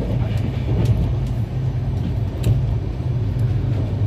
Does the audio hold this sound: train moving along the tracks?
yes